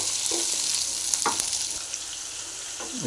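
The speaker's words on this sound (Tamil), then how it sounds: "சின்ன வெங்காயம் நல்லா ஃப்ரை ஆகட்டும்" Small onions fry in a pan for onion pickle, a loud continuous sizzle with occasional scraping stirs of a spoon, close by and without voices.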